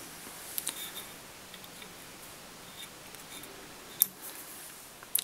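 Scissors trim synthetic fly-tying material while a Blue Park Shrimp salmon fly is being tied, giving a few faint, sharp snips and small clicks against a quiet room.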